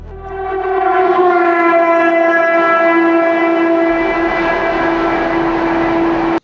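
A Panskura–Howrah local train sounds its horn late at night in one loud, sustained, steady blast close by that lasts several seconds before cutting off abruptly.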